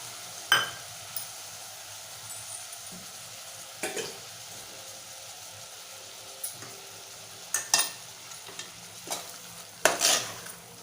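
Onion-coconut paste is stirred into frying chicken gravy in a pan, a low steady sizzle broken by sharp scraping and clinking strokes of the spoon, close and moderately loud, with no talking.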